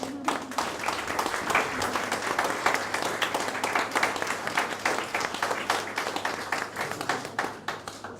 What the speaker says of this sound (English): I'll start the applause for MediaSavvy.